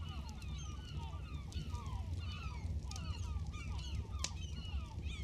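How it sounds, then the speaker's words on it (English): Many small birds chirp and call in the distance by the shore in the evening, a continuous twittering chorus over a low, steady rumble of waves. "birds off in the distance."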